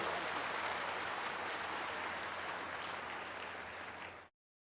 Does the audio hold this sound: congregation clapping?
yes